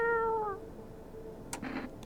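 A cat in the game No, I am NOT HUMAN gives a single clear, drawn-out meow, followed by a faint short rustle, heard close with no talking.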